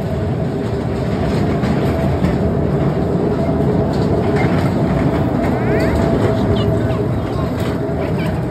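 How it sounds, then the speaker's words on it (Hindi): A train rumbling through the Khewra Salt Mine, a steady, loud roll of wagons with faint clicking throughout, the noise filling the space without pause. "इस ट्रेन में हमें बैठ के वापस जाना है."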